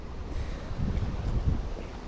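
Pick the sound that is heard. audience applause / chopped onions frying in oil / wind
wind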